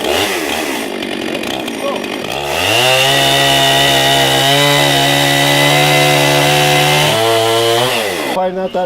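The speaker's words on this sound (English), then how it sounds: "Just rev it up a couple times." A chainsaw engine revs up near and loud, its whine climbing and holding a steady high drone for several seconds before dropping back to idle, with a brief spoken word over the start.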